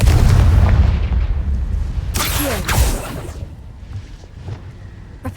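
A Confringo fire-blast spell in Hogwarts Legacy bursts with a loud booming blast and rushing whoosh around the two-second mark, followed by a crackling, fading tail over rumbling game ambience.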